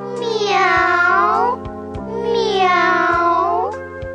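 A voice imitates a cat, drawing out two long, wavering meows one after the other, loud and close, over a steady musical backing.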